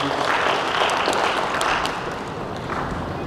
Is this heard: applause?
yes